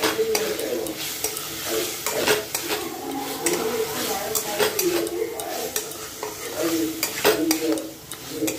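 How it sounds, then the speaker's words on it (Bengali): Potatoes sautéed with spices in a pan for an aloo curry, with steady sizzling and repeated scraping stirs and clinks of a utensil against the pan, close and continuous. "আলুটা দিয়ে কষছি এখন।"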